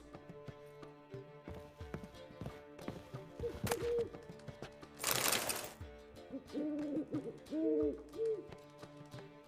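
A pet owl-like bird in The Witcher 3 hoots in short tonal calls amid game ambience, with music and a hiss burst midway; the hoots come in a few quick clustered phrases near the end, moderately clear.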